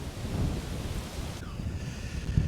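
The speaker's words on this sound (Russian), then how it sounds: "как-то что-то сильно много ветра, тут песка" Strong wind gusts through a sandy canyon in Vietnam, a loud, continuous rushing roar that buffets close by with rumbling lows.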